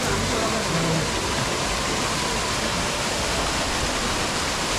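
Keralamkundu waterfall in Palakkad, Kerala roars with a dense, constant rush of falling water, loud and close, unbroken from start to finish.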